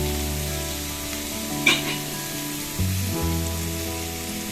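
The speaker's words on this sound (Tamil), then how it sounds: "பத்தலன்ட்டு நல்லா எண்ணெயிலே நம்ம வதக்கிக்கலாங்க" Bitter gourd sautés in oil with a steady sizzle under a low hum, plus a couple of brief clinks and scrapes from stirring.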